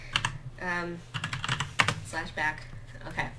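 Rapid clicking of keys on a computer keyboard, loud and close, in quick irregular bursts alongside someone talking.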